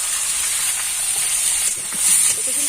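Onion, carrot and cauliflower lightly frying in a pan for momo filling, a steady bright sizzle and hiss with faint stirring clatter underneath, close and continuous.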